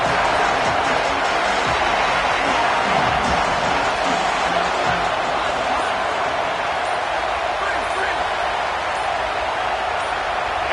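A roaring football stadium crowd at an Oklahoma vs Ohio State game, a loud, sustained wall of cheering and noise that holds steady without a break, with commentary voices underneath.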